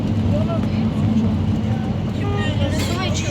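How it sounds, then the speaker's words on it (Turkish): Steady low engine rumble of a bus interior, constant and fairly loud, with faint chatter and clinks in the background. "Otobüs seslerinden kusura bakmayın arkadaşlar"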